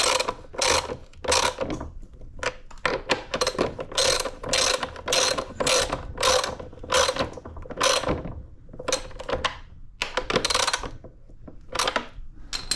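Rapid ratcheting clicks in repeated bursts as an attachment is tightened onto a Sun Joe AJ801E electric dethatcher, loud and close with short pauses between runs.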